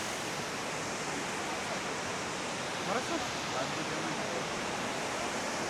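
Steady, dense roar of rushing water from a waterfall close by, filling the whole clip at an even level with no breaks.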